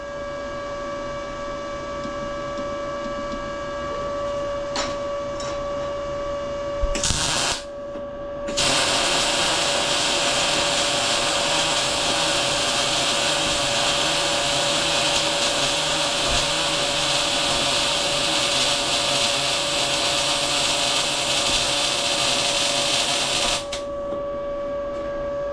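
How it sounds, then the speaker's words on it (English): An Arccaptain MIG200 MIG welder runs a steady, loud crackling hiss for most of the stretch after a short sputtering start, with a constant electrical whine underneath and no talking. "I overheated just a tad. I was going too fast. Good weld up into the point though."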